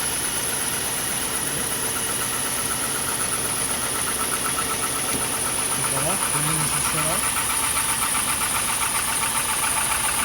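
A Chevy 5.3L V8 in a Tahoe/Silverado-type truck idles just after starting, a steady, close engine drone with a thin high whine, and a voice briefly heard partway through.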